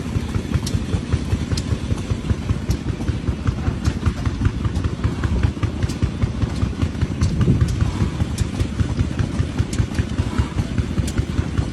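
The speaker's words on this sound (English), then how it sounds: "a 17-horsepower Ruston Hornsby engine." Close, loud 17-horsepower Ruston Hornsby stationary engine running at a steady pace, with rapid regular firing pulses and mechanical clatter throughout.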